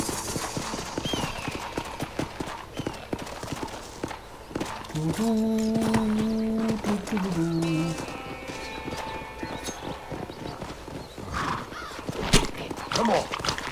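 Horse hooves clip-clop in the Western video game Red Dead Redemption, with a neigh and a whistled, tonal cue partway through, steady walking hoofbeats and voices speaking intermittently throughout.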